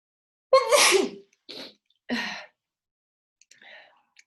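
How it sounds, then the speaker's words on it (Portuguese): A sharp allergy sneeze bursts out up close, followed by a couple of shorter breathy exhales and a faint sigh, then quiet. "Isso aqui que eu vou espirrar, eu acho."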